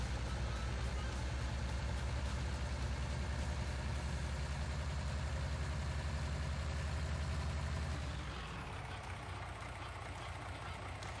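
Heavy five-axle truck without a semi-trailer in Farming Simulator 19, a loud steady low engine drone with rumbling that drops in level toward the end.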